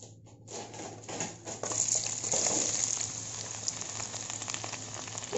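Sliced onions sauté in butter and roasted spices, giving a steady, close sizzle with light stirring, like patter on a hot pan. No one speaks.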